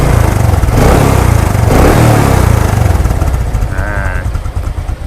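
A Honda Wave motorcycle with a windshield, a 4-valve tuned engine and a cracked crankcase cover, kick-started and then revving loudly up close, with a steady rough engine drone throughout.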